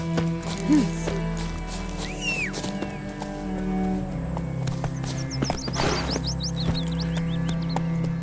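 Horse hooves clip-clop in the video game The Witcher 3 under a steady ambient hum and game sounds, with a brief whinny and bird-like chirps, moderately loud and continuous.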